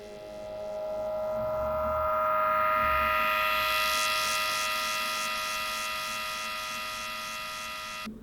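A synth squelch run through an Ableton Resonators effect chain gives a sustained buzzy, ringing tone whose filter sweeps upward and then settles into a steady pulsing shimmer, with no voices.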